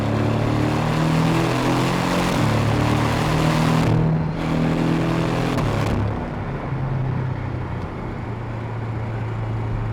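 A Porsche 718 GTS with a 2.5-litre engine pulls in third gear around 3,500 to 4,000 rpm, a steady droning engine note heard from inside the car that dips briefly partway through.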